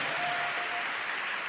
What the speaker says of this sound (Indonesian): tepuk tangan yang kencang untuk Patih